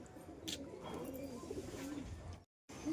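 Pigeons kept for sale coo faintly in a soft, continuous murmur, with one brief silent gap near the end before the calls pick up again.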